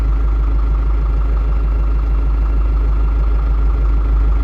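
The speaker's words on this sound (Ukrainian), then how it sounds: "О, як газує" Engine of a farm machine on a Swiss farm during wood chip preparation, a loud steady running drone with deep low rumble and constant vibration, held without change throughout.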